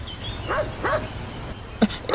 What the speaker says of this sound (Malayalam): എന്താ സാറേ നായുടെ ശബ്ദം കേൾക്കുന്നുണ്ട്?